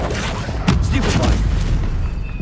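A Stupefy stun spell cast in Hogwarts Legacy during combat, a sharp booming impact with a crackling magical burst, loud amid a busy stream of other spell effects and a voice nearby.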